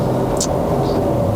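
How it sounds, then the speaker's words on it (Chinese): A BMW E39 523i's engine gives off a steady, close, broadband rumble and hum with no changes in pitch, heard alone without speech. "引擎室出来的声音，哇！"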